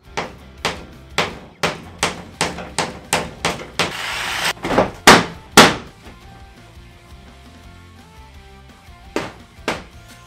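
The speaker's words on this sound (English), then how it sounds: "Where's the hammer?" Hammer blows on wood during a bus conversion build, a quick run of about a dozen loud, sharp strikes in steady rhythm, then quiet, then a couple more hits at the end.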